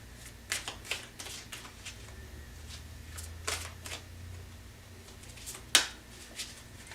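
Tarot cards shuffled by hand, giving a few soft riffling flurries and light taps spread over several seconds, then one sharp snap as a card flicks out, quiet and close with no talking.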